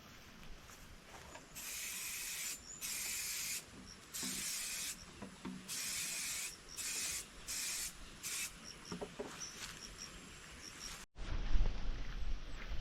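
An auto sprayer hisses insecticide onto garden plants in about eight sharp bursts of varying length, close and fairly loud, with quiet gaps between them and a rustling handling noise at the end.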